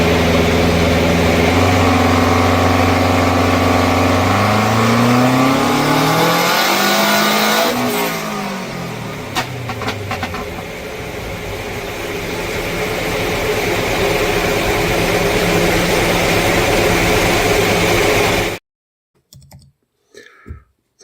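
A methanol-fuelled engine runs with its exhaust venting straight out the top, a loud sustained drone with rising revs and a sweeping pitch change midway, rattly clicking through it, before cutting abruptly to near silence near the end.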